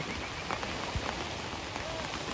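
Light drizzle patters steadily on surfaces outdoors, soft scattered drops forming a constant wash, with faint voices in the background.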